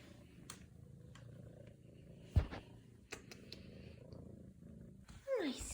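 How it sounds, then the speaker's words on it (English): A cat's soft, steady purr rumbles close by, with a few light clicks and a brief squeaky sound near the end. "Do you hear him purring?"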